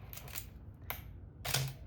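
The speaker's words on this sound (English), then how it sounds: "You can hear that the shutter sound is actually rather pleasant" An Olympus OM2n 35mm film camera's shutter release gives three quiet, short mechanical clicks spaced through a couple of seconds, close up and alone.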